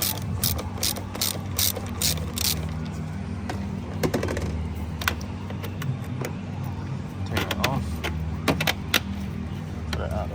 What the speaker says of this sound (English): Now I'm going to take this, loosen this 10mm on the battery.